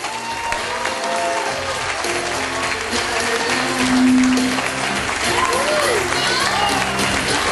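Guests at a wedding reception applaud as the junior bridesmaid and her usher are introduced, a sustained crowd clapping that fills the room, with a voice and scattered cheers mixed in.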